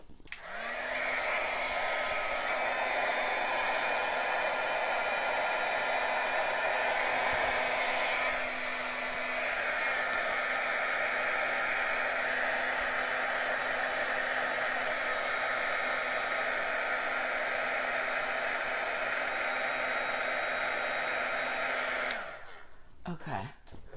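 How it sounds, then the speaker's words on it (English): An embossing heat gun runs continuously at close range, a steady loud whirring blow that holds unbroken for about twenty seconds before switching off near the end. "now let's get the embossing gun."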